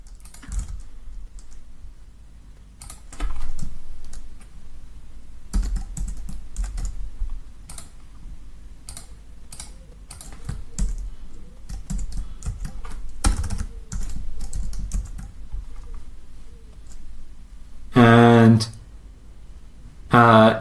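Rapid bursts of typing on a computer keyboard, close and clear, as dummy card data goes into a checkout form, with a voice speaking over parts of it.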